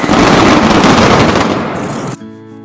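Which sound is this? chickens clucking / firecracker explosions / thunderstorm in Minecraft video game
firecracker explosions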